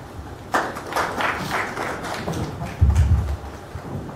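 Applause and cheering from a comedy-show audience at a Grand Hotel function greet a Bengali comedian, a dense clatter of clapping that swells in waves, with a louder burst near the end.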